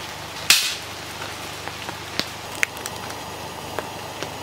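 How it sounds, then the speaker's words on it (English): Rain beginning to fall at an outdoor duck-hunting camp during a warm-weather opening weekend: scattered single drops tick sharply on a surface, one louder splat near the start, then sparse, quiet hits with no one talking. "the rain has started once again"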